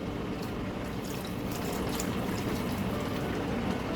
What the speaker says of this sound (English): let's add the chicken broth